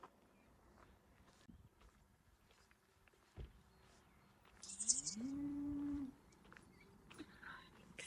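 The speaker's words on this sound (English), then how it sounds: "Can hear some cows moving." Cow on a working farm by a quarry near Leek, Staffordshire, giving one drawn-out moo at middle distance after faint shuffling movement, with quiet outdoor ambience around it.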